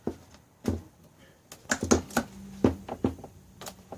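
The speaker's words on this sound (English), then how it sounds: "now let's peel this vinyl off" Vinyl cover being peeled off a Honda Reflex scooter seat: a series of sharp close crackling tugs and rips in irregular bursts, with quiet pauses between.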